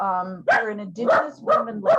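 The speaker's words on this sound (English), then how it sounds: "sorry, that's my dog, she'll just pipe up whenever she feels like it" A dog barks several times in a row, close and loud, overlapping a person who keeps speaking.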